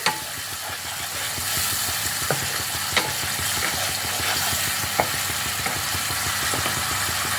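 Spiced cauliflower curry being stirred and mixed in a pan, a steady frying sizzle throughout with a few sharp spoon scrapes and knocks against the pan, close and fairly loud.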